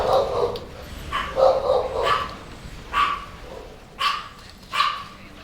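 Several dogs indoors barking at something outside, a run of sharp, close barks and yips coming in bursts with short pauses between them.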